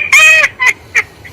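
Fowl calls from a chicken, a loud honking squawk followed by two shorter clucks, close and alone.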